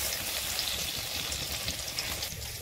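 Brinjal slices coated in semolina and egg fry in hot oil, giving a steady, dense sizzle and crackle that stays at an even, close level with no talking.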